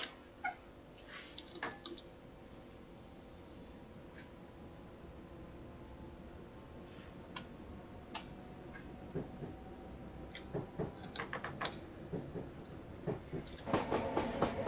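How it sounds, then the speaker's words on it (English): Class 321 electric train departing in the Train Sim 2019 game, heard from the cab as a quiet low rolling hum with scattered faint clicks and clacks that grow busier toward the end. "So departing Whittam, the speed limit is now 25"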